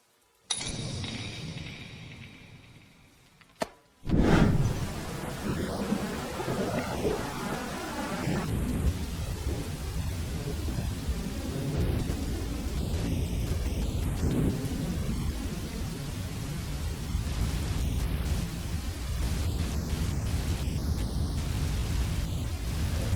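After a brief quiet stretch, heavy rain pours down steadily outdoors while low thunder rumbles beneath the hiss, continuous and enveloping for the rest of the time.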